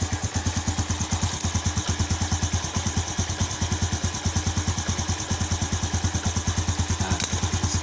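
Steady, loud Yamaha Jupiter Z1 motorcycle engine running close by at a fast, even idle with rapid regular pulsing and no pauses, on a bike reworked to run without a battery.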